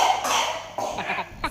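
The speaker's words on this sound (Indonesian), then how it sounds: "anak aku lagi batuk" A young child coughs in a few harsh bursts close to the microphone, with no talking over them.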